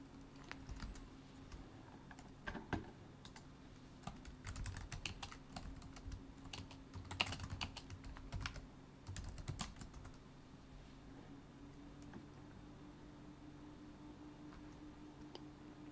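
Soft, rapid keystrokes on a computer keyboard tap in irregular bursts over a faint steady hum, then thin out into occasional clicks near the end. No one speaks.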